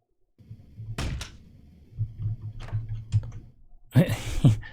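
Heavy thuds from a character pounding on a door in the video game Streets of Rogue, a few loud knocks at the start and a louder cluster near the end, with a low droning ambience in between.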